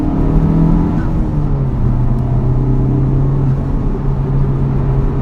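A Honda Civic Type-R FK8 engine holds a loud, steady, close drone with a deep rumble and only slight shifts in pitch, running alone without any voices.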